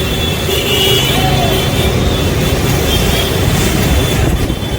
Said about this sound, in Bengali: বাসটা ঘুরে যাচ্ছে আবার চলে যাচ্ছে এখন স্বর্গদ্বারের দিকে